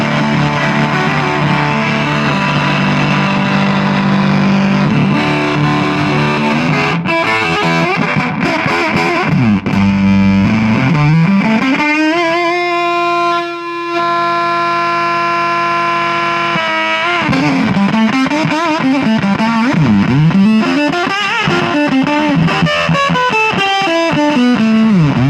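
Heavily distorted electric guitar through a germanium and silicon octave fuzz pedal, with a squelchy, wobbling fuzz tone and octave-jumping notes, a sustained bending passage in the middle, loud and continuous.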